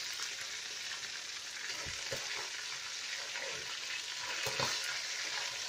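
Chicken pieces deep-fry in oil on an electric stove, giving a continuous bright sizzling hiss dotted with small pops and crackles, fairly quiet and steady throughout, with no voices.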